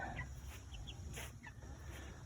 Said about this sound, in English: So our meat birds arrived.